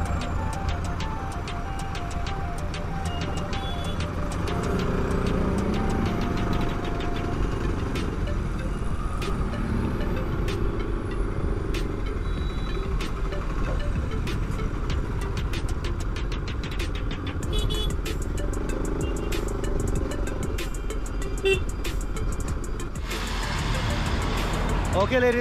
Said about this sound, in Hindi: यहाँ पे भी ट्रैफिक भाई सब।